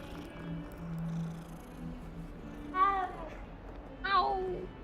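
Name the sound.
cat meowing and purring in video game Hogwarts Legacy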